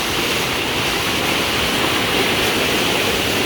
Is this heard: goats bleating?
no